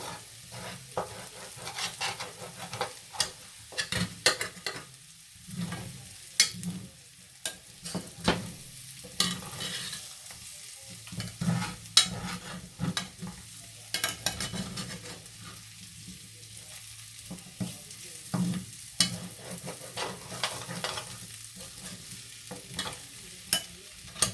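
A utensil repeatedly scrapes browned bits off the bottom of a pan of smothering potatoes. The scrapes come in quick, irregular strokes over a low, steady sizzle, close and fairly quiet, with no talking.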